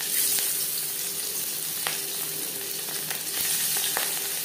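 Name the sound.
marinated katla fish frying in hot refined oil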